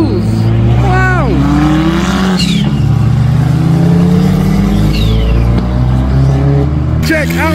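A car engine revs loudly as the car leaves a car show, climbing in pitch and roaring close by. Crowd noise and voices run underneath.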